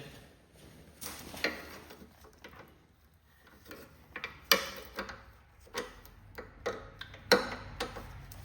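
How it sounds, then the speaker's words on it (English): Socket wrench on an extension ratchets on a Cub Cadet Cyclops mower with a Kohler 18 engine, giving short bursts of quick metallic clicks with pauses between strokes, close up and with no talking. "We're going to use a socket with an extension."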